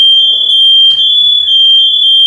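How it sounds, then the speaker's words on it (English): A household smoke detector near a kitchen sounds off with a loud, piercing, continuous high-pitched beep, with a faint voice briefly underneath. "All right, so fire alarm here."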